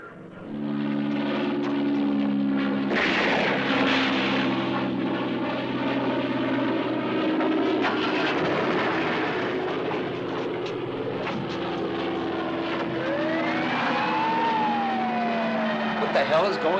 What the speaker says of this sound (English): Willie, about that unidentified aircraft. He's heading in.